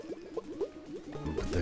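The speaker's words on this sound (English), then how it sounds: "The water in Alexander's lamp is hot. It's just about Boiling." Hot water bubbles and gurgles inside a lamp carried by Alexander in King's Quest VI, heard as a quick run of liquid blips and pops that swell into a thicker, louder burble near the end.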